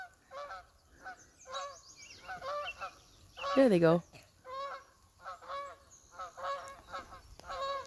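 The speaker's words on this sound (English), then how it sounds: "There's some geese." A flock of geese passes over a home garden, giving a run of repeated nasal honks at moderate distance, with one louder, drawn-out call in the middle and a brief spoken phrase.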